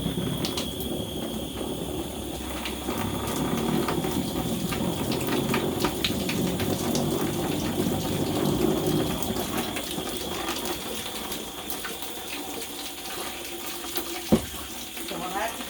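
Soapy water drains from a tub used to wash a Cotswold wool fleece, making a steady, fairly loud rushing and gurgling wash throughout, with a single sharp click near the end.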